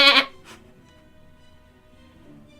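A sheep gives one sharp, close bleat followed by a shorter second bleat, then only quiet ambient room hum remains.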